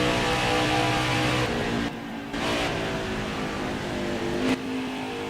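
Race truck engine in NASCAR Heat 5 at Pocono, a steady loud droning roar with layered harmonic whine, brief dips and swells as the truck laps the track, no talking.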